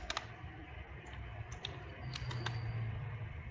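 Keys clatter on a computer keyboard while a temperature value is entered, a few quick bursts of close, crisp taps separated by short pauses over a low background hum.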